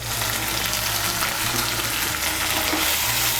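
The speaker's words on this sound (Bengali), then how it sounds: "মিশিয়ে নিয়ে মশলাটাকে একটু ভেজে নেব" A spice paste of chopped tomato and ground turmeric fries in a pan for a Bengali thin fish curry, giving a steady, dense sizzle close by that runs unbroken, with a faint low hum underneath.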